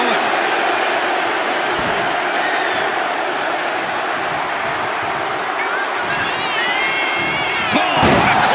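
A dense arena crowd roars and cheers continuously at a loud level during a wrestling match in the WWE 2K25 video game, with a commentator's voice rising over the din.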